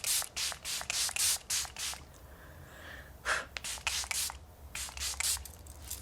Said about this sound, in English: I'm going to use my first round of setting spray.